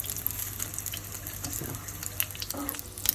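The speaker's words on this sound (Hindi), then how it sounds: "अभी हम ये 4 फ्राई कर लेते हैं, उसके बाद इससे करेंगे।" Lamb shami kebabs frying in oil in a pan, a soft continuous sizzle and crackle with occasional brief scraping or turning sounds close by.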